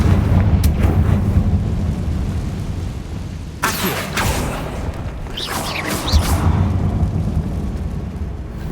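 A Confringo fire spell is cast in Hogwarts Legacy, a fiery blast that bursts with a rushing whoosh and crackling roar, followed by a second flaring burst, set over a low ambient rumble.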